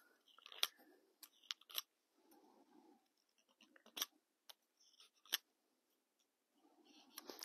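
A knife whittling an almond scion for cleft grafting on an orchard tree, with a series of sharp, close slicing and scraping strokes separated by short pauses, no talking.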